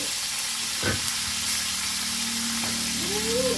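Salted bonito fish fries in a pan with a steady, close crackling sizzle, broken by a few brief clinks and scrapes of a utensil.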